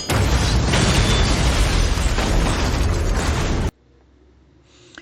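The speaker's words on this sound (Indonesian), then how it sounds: "Will menembak tabung oksigen yang memberikan efek ledakan" In a film scene, an oxygen tank shot by gunfire explodes on the fifth floor of a hospital. A loud, sustained roaring blast fills nearly four seconds, then cuts abruptly to near silence with a faint trailing rumble.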